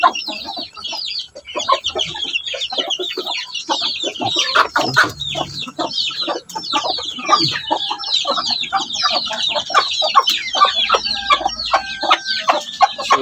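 Clucking and peeping from a native hen and her chick, a dense run of short close calls and chirps that goes on without a break, with no voices.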